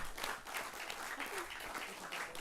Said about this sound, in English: Let's give our 2023 Red Earth crew a big round of applause again